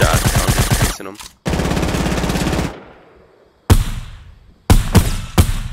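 SMG gunfire in Fortnite: loud rapid bursts of automatic fire, a long stream, a pause, another sustained burst, then several short sharp volleys close by.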